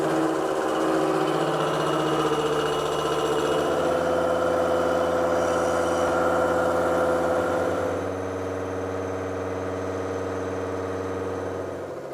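A milling machine makes a roughing cutting pass on a fence workpiece, a steady tonal motor drone with layered harmonics that drops slightly in level partway through and then carries on evenly. No one talks.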